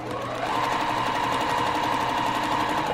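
A sewing machine runs in one steady, loud continuous burst as it stitches a 1/4 inch seam attaching quilt rows, with a triangle of fabric hanging off the edge.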